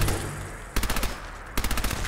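Fallout 4 gunfire in two rapid automatic bursts, loud and close, after a brief quieter lead-in, each burst a fast rattling string of shots.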